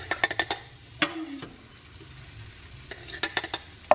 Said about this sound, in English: I'm going to take all of it and add it to this fancy little container